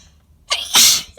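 A single loud, close sneeze during a sneezing fit, with a sharp intake followed by a forceful burst lasting about half a second.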